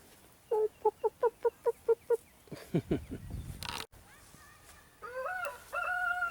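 A rooster in a farmyard with hens at Washington-on-the-Brazos State Park, Texas, lets out a quick run of sharp, evenly spaced clucks, then a jumble of rougher calls and a few longer, drawn-out cries, close by.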